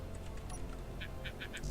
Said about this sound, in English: that's the vibration on John's phone as he's typing